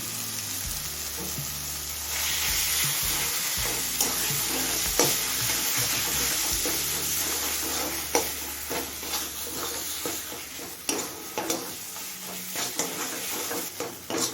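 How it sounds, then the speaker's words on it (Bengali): Chhana (fresh cottage cheese) frying in a spice masala over a low flame, a steady close sizzle with scattered scraping stirs, no talking. "এখন ছানাটা দিয়ে দেবো"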